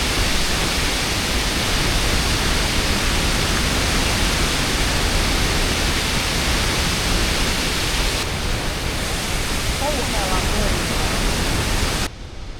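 Water pouring over a river dam, a loud, steady, broadband rush that fills the whole clip without letting up and drops slightly at the very end.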